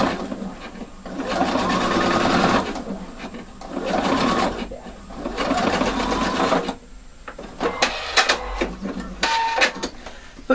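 A sewing machine topstitches a front zipper with facing, running in loud, steady bursts of rapid stitching separated by short pauses, with faint handling noises between runs.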